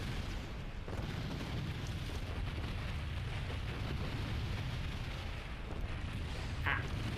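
Fire burning in LEGO Star Wars: The Complete Saga, a steady, loud low roar and crackle that fills the whole stretch without pause, with a brief brighter flicker near the end.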